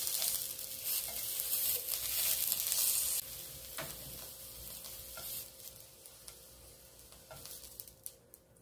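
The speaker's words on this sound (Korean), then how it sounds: "표고와 소고기는 약한 불에서 익히시면 됩니다" Shiitake mushrooms and seasoned beef fry gently over low heat, giving a soft, continuous sizzle with faint crackles that eases off toward the end.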